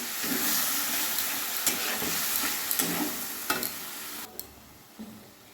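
Ground spice paste with red chili, turmeric and cumin powders frying in a pan, a steady loud sizzle and hiss broken by scraping stirs, easing off near the end.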